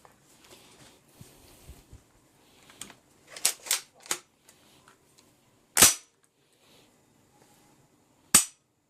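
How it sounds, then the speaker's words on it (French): A Baikal MP155 shotgun is handled after reassembly, with a run of metallic clicks as the action is cocked, followed by two sharp isolated snaps of dry firing, close and crisp in a quiet room. "On peut maintenant armer notre arme pour contrôler que tout fonctionne."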